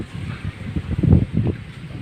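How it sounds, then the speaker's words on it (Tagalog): Gusty wind on a rooftop buffeting close to the microphone, rising into a louder rumbling surge midway before easing back. "Yun na, lumalakas yung hangin, oh."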